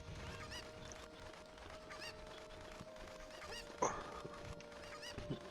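Chickens (cuccos) cluck and squawk faintly in Zelda: Ocarina of Time, with a sharper cry near the end, over steady game background sound.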